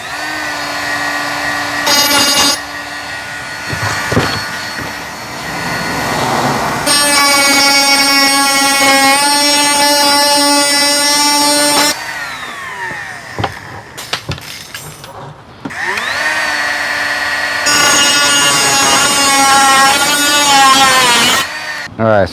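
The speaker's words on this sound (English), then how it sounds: "We're also gonna use the larger drill bit to go ahead and drill in the side of the bucket." Loud power tool bursts whine through a 5-gallon plastic bucket, drilling and cutting, starting and stopping several times, with short pauses of handling noise between runs; no speech.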